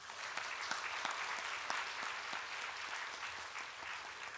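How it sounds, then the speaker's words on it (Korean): A church congregation claps for a newlywed couple during a Sunday service, a moderate, fairly distant round of applause sustained evenly throughout. "박수 한번 하겠습니다"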